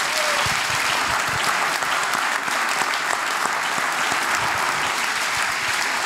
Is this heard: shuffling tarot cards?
no